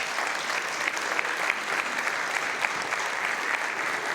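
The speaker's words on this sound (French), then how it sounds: "Alors je pense qu'on peut l'applaudir aussi." Steady, dense applause fills a municipal council meeting hall, a sustained wash of many hands clapping at an even level without a break.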